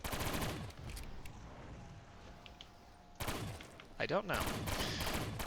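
Bursts of rapid gunfire in a first-person shooter video game, one loud volley at the start and another stretch late on with a sweeping whoosh between, under background game noise while a voice speaks briefly.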